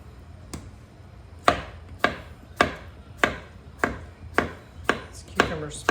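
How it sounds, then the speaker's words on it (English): A knife slices through a cucumber onto a cutting board in about eight crisp, evenly spaced chops after a short pause, close and clear with no talking. "going to cut the cucumber in half longwise and then slice it"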